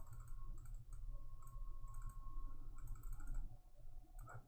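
Quiet, close mouse clicks sound in irregular clusters during digital painting, light sharp taps over a low background hum.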